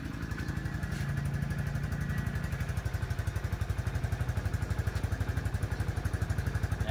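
A motorcycle engine repaired after rat-chewed wiring fires up and runs with a steady, close, pulsing idle throughout.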